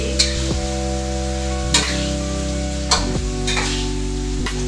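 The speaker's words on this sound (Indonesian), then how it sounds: "Kita aduk lagi." Fried tempeh and tofu are stirred in a thickening sauce in a pan: a steady close sizzle under a constant low background hum, with several clear scraping strokes of the spatula at intervals.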